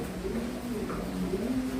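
A pair of pigeons cooing nearby, soft low repeated coos that run continuously through the short stretch, quiet and without talk.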